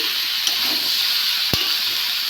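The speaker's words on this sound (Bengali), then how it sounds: "ভালো করে সব মিশিয়ে নিয়েছি" Ridge gourd curry cooking in a pan: a continuous close sizzle with a couple of faint utensil clicks, one sharper knock, no voices.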